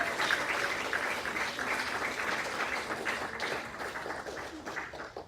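A church congregation claps together in steady, loud applause, many hands overlapping in a continuous wash that gradually eases toward the end.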